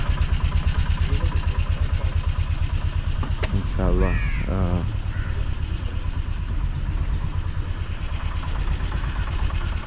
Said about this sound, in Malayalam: ഏ ഒരു കാക്ക രാവിലെ